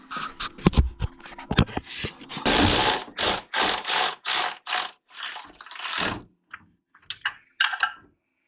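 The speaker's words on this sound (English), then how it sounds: "I access my starter bolts coming from the front, and I just use some long extensions." A hand ratchet on long extensions loosens the starter bolts on a Mustang during transmission removal. It makes a series of rapid clicking bursts of several strokes each, close and crisp, before it goes quiet.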